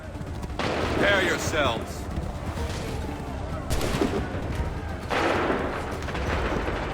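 Musket volleys in Assassin's Creed III, several loud, broad booming bursts a few seconds apart amid battlefield noise, with a voice talking between them.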